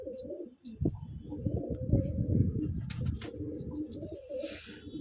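Pigeons in a pigeon house give a steady run of low, throaty cooing, several birds overlapping at close range, with faint rustles and a few higher chirps in the background.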